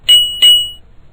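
A bright bell rings twice in quick succession, each strike clear and close, the second leaving a ringing tone that fades out within about half a second.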